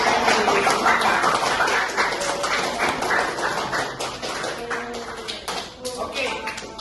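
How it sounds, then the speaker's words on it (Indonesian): Rhythmic hand clapping from a classroom group of students following a teacher's count, sharp repeated claps in short bursts mixed with voices and room noise throughout. "Tepuk tangan 2 kali"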